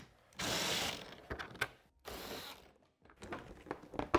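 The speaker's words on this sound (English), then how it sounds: "I'm using a T40 Torx bit." Screws are backed out of the hood panels on a Polaris side-by-side with a T40 Torx bit, producing two bursts of close, mechanical ratcheting and whirring with a brief pause between, then a series of sharper clicks and clatter.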